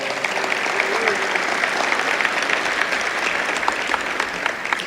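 Graduation audience at a law school ceremony applauding an award winner, dense sustained clapping from a large crowd, steady and fairly loud throughout.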